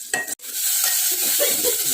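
Chillies with curry leaves frying in a pan, a loud close hiss of sizzling oil after a brief clatter, steady for about two seconds.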